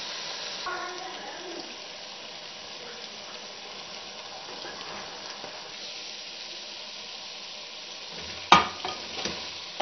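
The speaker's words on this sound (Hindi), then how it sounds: "10 मिनट मैंने अच्छी तरह से वो अंडों और प्याज को भुनाई कर ली है" Eggs and onions fry in a pan with a soft, steady sizzle and occasional stirring scrapes. A sharper clatter comes near the end.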